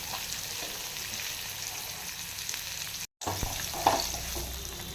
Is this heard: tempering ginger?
yes